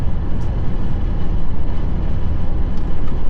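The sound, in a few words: wind noise inside a moving GMC Sierra 2500 truck cab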